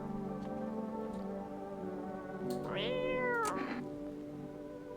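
A cat meows in the video game I'm Not a Human, a single drawn-out, rising then falling meow over a steady droning hum, with no voices.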